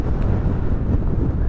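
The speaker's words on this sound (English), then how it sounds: "this wind is absolutely phenomenal" Strong wind buffets the microphone at a coastal gun position in the fortifications of Ascension Island, a loud, continuous low roar and rumble with no speech.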